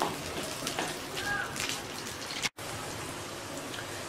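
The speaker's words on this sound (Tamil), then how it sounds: "இந்த இஞ்சி பூண்டு வந்து பச்சை வாடை போற வரைக்கும் நம்ம வந்து இதை நல்லா வதக்கிடுவோம்" Ginger and garlic, with cashews nearby, sautéing in hot oil in a pan, giving a steady crackling sizzle like light rain that continues throughout, cut by one brief silent gap.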